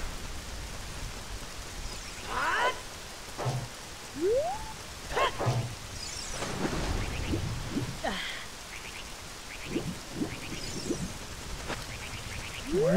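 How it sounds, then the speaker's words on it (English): Steady rain patters in The Legend of Zelda: Ocarina of Time, a soft constant hiss under scattered chirps, swooshes and brief effects. "it's like permanently raining here."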